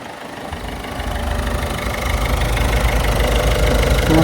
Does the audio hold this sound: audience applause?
no